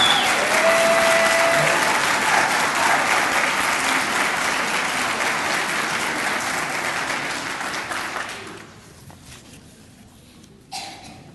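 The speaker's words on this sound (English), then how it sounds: "One more round of applause for them." Audience applause for new members at a Gamma Beta Phi honor society induction ceremony, a full, steady round of clapping that holds strong for about eight seconds, then thins out and fades to quiet, with a brief final burst near the end.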